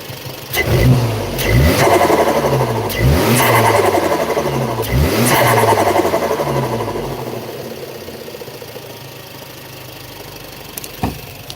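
A Volkswagen Jetta engine revs up sharply several times in a row, each burst of intake and exhaust roar falling back to a rough idle, close by and loud.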